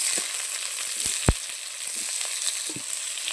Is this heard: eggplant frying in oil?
yes